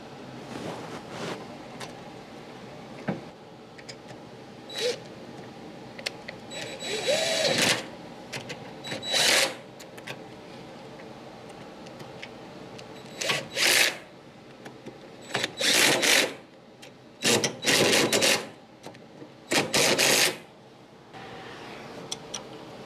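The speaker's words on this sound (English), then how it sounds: "That little impact will really get those bolts tight" A small impact wrench tightens bolts on a zero-turn mower deck during a bearing job, firing in several sharp, loud bursts of a second or two each, spaced apart with quieter shop noise between them.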